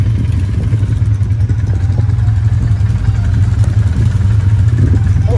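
An ATV engine rumbling and revving at close range during a ride, a loud steady mid-pitched motor with rough clatter and small surges in throttle, no talking.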